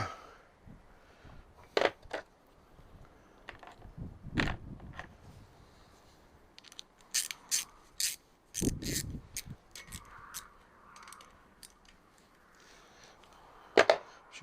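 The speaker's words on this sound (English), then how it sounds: "So now I believe I can get a wrench on that and we can get them off" Ratchet wrench clicking as bolts come off a Kawasaki Z1 900 engine block near the cam chain tensioner, giving short bursts of ratcheting clicks and metallic clanks in a quiet workshop.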